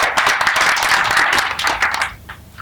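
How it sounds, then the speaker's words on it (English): An audience at a human rights court event in a historic venue gives a round of applause. Brisk, full clapping runs for about two seconds, then thins to a few scattered claps. "So please, a round of applause for us."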